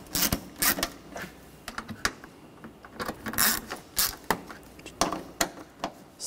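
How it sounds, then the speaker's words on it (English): Bolts on a transmission mount of a 2013-2019 Ford Escape 2.0L are tightened down with a ratchet, giving rapid bursts of sharp metallic clicks in uneven runs, close and fairly loud. "And take these bolts, get those started. And we can tighten those down."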